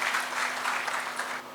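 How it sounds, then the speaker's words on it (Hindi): An audience at a TB-free India felicitation ceremony at Raj Bhavan in Dehradun applauds to welcome a speaker to the stage, producing a brief, dense burst of clapping. "उनके वक्तव्य के लिए जोरदार तालियों से स्वागत कीजिएगा"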